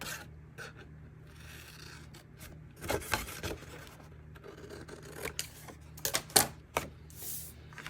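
Scissors snipping through a paper journaling tag, a straight cut down and then across, with several crisp clustered snips and rustling paper handling in a quiet room, no talking.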